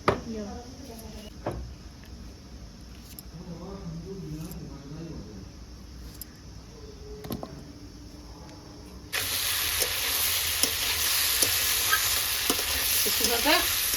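Garden-picked leafy greens fry in a pan. Voices talk at first over a quiet kitchen background, then a loud, steady hissing sizzle takes over and continues to the end.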